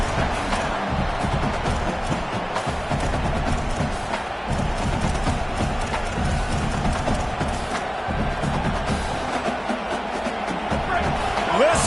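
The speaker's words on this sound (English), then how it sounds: "Listen to this crowd just shaking the girders of this place trying to help their defense." A football stadium crowd roars steadily and loudly throughout, a dense wall of cheering and noise from the home fans as they try to help their defense, with a broadcast commentator talking over it.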